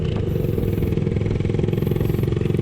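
A motorcycle engine runs with a loud, close, throbbing idle and steady rapid pulsing that holds evenly throughout. No voices are heard.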